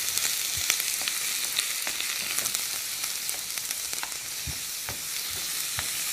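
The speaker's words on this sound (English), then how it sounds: "Nice sizzle." Steady, bright sizzling of meat frying in a hot skillet, with occasional pops and crackles and a faint scrape of stirring.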